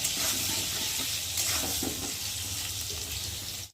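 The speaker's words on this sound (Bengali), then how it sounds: "এবার দিয়ে দেবো অল্প করে হলুদের গুঁড়ো, দিয়ে আলুটাকে ভালো করে ভেজে নেব।" Potatoes fry with turmeric powder in a pan, a steady close hiss and crackle of sizzling oil that runs evenly before cutting off abruptly.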